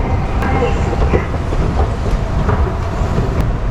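Subway train running along the rails, a loud steady rumble with faint rhythmic clicks and rattles from the car, heard from inside throughout.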